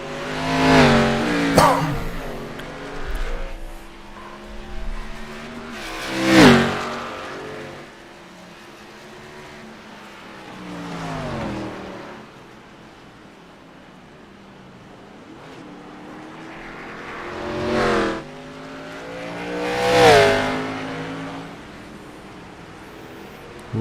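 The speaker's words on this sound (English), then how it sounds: "as you can hear his car" A race car does a burnout during a racing series round, its engine revving and roaring in repeated surges that swell and fade, fairly loud and somewhat distant, with no talking.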